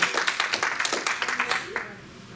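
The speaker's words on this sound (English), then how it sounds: "let's have a big round of applause for our musician this morning, Dennis Hubert." Scattered hand claps from a small church congregation, fairly close, fading out after about two seconds.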